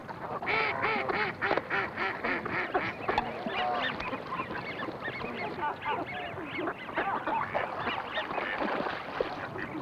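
Many dabbling ducks in an estuary marsh quacking over one another in a busy flock, steady rapid calls mixed with some honking, fairly close and continuous throughout.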